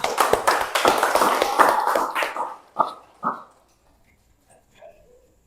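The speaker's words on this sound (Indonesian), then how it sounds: "Tepuk tangan." Students clapping their hands in a 7th grade classroom, a quick burst of loud close claps that fades out after about three seconds, followed by near silence.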